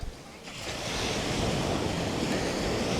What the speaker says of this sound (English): So the waves ripple into shore.